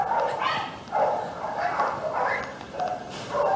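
A medium-sized female Spinone dog barks and yips in a series of short, fairly close calls spaced out irregularly, with no talking over them.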